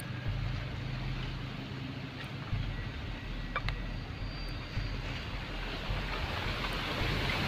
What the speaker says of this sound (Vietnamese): Gió quá trời gió.